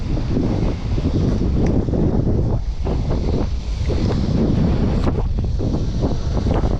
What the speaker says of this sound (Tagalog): Medyo malakas po yung hangin.